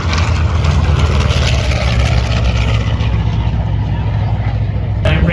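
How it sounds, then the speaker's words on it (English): A P-51 Mustang with a Rolls-Royce Merlin V12 engine roars at an air show, a loud, steady, broadband rumble that fills the whole stretch without a break. "Raymond has that Rolls-Royce Merlin V12 engine."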